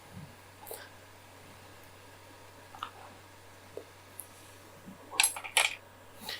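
Date cake batter being mixed in a bowl with a rubber silicone spatula: sparse soft taps and scrapes over a steady low hum, then a short cluster of sharper clicks near the end.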